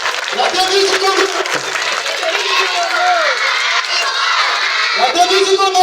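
A large crowd including children claps and cheers loudly at a school emulation event, steady dense applause with shouting voices and whistling over it for several seconds.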